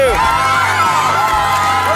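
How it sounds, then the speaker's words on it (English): Crowd cheering and whooping at a giant spray paint art competition, a dense, loud wash of voices with shouts and whistles rising through two seconds. "cheer for all the other artists too"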